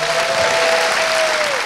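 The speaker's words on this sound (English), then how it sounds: "Please give your most warm, most loud and epic round of applause for Espen Sandberg and Joachim Rönning." Premiere audience in Berlin applauding the two directors, a dense, sustained wash of clapping from a large crowd filling the whole stretch, with a faint whistle-like tone running beneath it.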